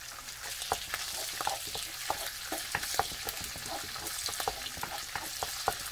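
Garlic frying in a pan with fresh turmeric and ginger gives a steady close sizzle, broken by repeated scraping clicks as a utensil stirs the mixture, with no talking.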